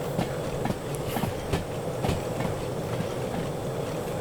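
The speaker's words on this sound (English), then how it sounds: "look at how much this train is wobbling" A steam train rolls along in the Derail Valley video game, a steady rumble with rhythmic clickety-clack wheel knocks and occasional sharper clanks, heard close and alone without talking.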